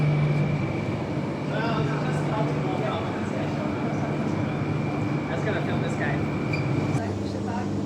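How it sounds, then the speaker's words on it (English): A train pulls away from platform 3 at the newly opened Midland Station in Perth's Metronet network, with a steady rumble and a sustained tonal hum under the hiss of the station and a voice talking. "now this is actually the first ever train leaving from platform 3 right now"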